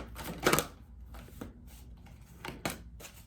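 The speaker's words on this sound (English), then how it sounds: "we're just going to shuffle one more time" A deck of divination cards shuffled by hand in a quiet room: a few short riffling bursts, the loudest near the start, then two lighter ones, separated by near-silence.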